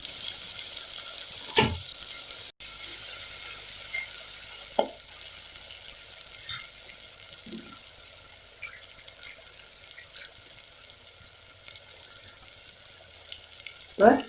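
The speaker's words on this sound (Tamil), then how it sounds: "நல்லா கிளறி வச்சுட்டு வதக்கிக்கலாம்" Fish curry masala sautéing in a clay pot, a soft steady sizzle with a few scraping stirs and clinks breaking through now and then, ending in a louder scrape.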